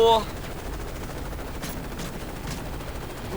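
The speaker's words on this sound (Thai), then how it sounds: "ยังยิงมาอีกยังยิงยังยิง" Gunfire in the video game Call of Duty: Modern Warfare 3 comes as a few short, distant-sounding bursts over a constant dense background of game noise.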